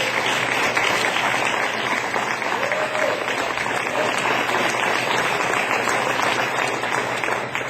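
Steady audience applause fills a hall as the crowd welcomes a speaker's mother at a Circle of Friends 2016 event, a continuous, even clapping that holds for several seconds without letup.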